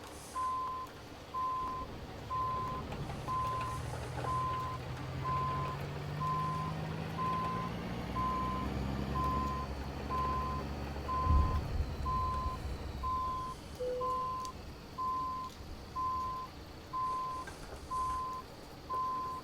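A truck's reversing alarm in American Truck Simulator, with an International 9600 cabover, beeps in a steady, evenly spaced pulse over a low diesel engine rumble, with a brief deeper engine swell partway through.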